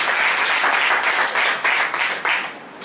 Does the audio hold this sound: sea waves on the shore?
no